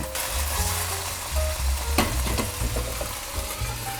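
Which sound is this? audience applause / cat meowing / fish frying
fish frying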